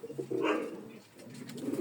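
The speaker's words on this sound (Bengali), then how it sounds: "আমার গত শিপমেন্টে কবুতরটা আসছে" A pigeon of a Pakistani racing breed gives a short, close coo, a soft throaty call that swells and fades twice in under two seconds.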